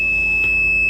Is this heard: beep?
yes